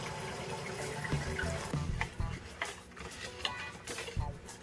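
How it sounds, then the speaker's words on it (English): Cold water is poured onto a large amount of gelatin in a kitchen for a homemade glowing gummy brain, giving a continuous, fairly loud splashing pour with uneven bursts throughout. "now to add the cold water"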